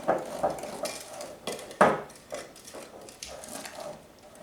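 Brownie batter being mixed by hand in a bowl, with a spoon or spatula knocking and scraping against the bowl in irregular strokes and a few louder clanks, close and alone, with no talking.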